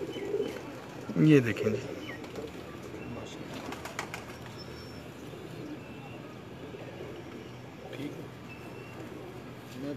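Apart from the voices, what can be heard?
pigeons cooing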